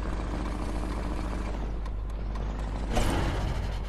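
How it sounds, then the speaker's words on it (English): Engine of the Viceroy Mark 1, a Rolls-Royce car glider in Fortnite: a loud, steady broadband rumble and hiss that swells briefly near the end, with no talk. "Listen to the engine."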